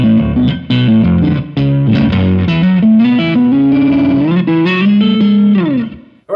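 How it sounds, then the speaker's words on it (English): An electric guitar plays a fast run of ringing melodic notes through a small, short reverb, loud and close with no talk, ending abruptly. "let's just add a bit of reverb just to give it space."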